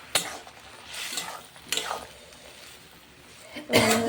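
Bean curry with salt just added is stirred in a pan, a few distinct scraping strokes spaced out over a few seconds, close and moderately loud with quiet gaps between.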